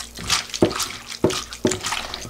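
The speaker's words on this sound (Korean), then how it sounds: "이렇게 되면 오이에서 물기가 이렇게 많이 빠지거든요." Brine dripping in separate drops from squeezed pickled cucumbers (Korean oiji), three or four clear splashes about half a second apart, close and fairly loud with no talk.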